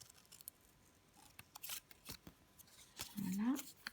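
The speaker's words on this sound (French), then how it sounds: "pour découper les cercles, c'est mieux de faire tourner la feuille plutôt que les ciseaux" Scissors snip through paper while cutting out circles, a few short crisp cuts scattered among quiet handling noises, ending in a longer closer snip.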